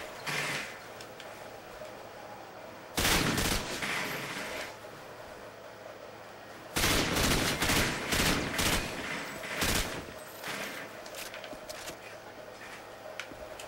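Bursts of gunfire from Call of Duty Modern Warfare 2 multiplayer, two loud broadband volleys with a few scattered shots after, over a steady game ambience and no talk.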